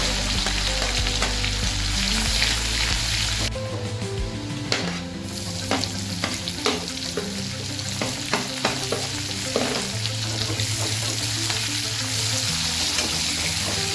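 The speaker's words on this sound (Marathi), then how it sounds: "जिरे मोहरी तडतडली की लसूण टाकायचं." Cumin, mustard seeds and garlic sizzle and crackle in hot oil, with a steady frying hiss and scattered pops, stirred now and then.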